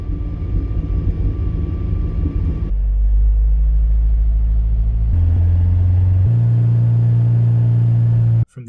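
Interior drone of a Toyota MR2 Spyder engine after firewall sound-proofing, a loud steady low rumble whose pitch steps up as revs change, heard from the cabin without talking and cut off abruptly near the end.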